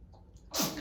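One sharp, close sneeze bursts out after a brief quiet moment, loud and breathy, with no talk over it.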